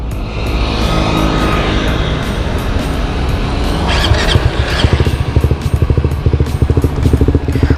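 Suzuki GSX motorcycle engine starting up nearby, then settling into a loud, rhythmic pulsing run with distinct exhaust beats.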